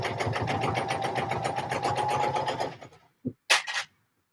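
A sewing machine stitches a pouf in a rapid, even run of needle strokes for a couple of seconds, then stops, followed by a few short clunks and rustles nearby.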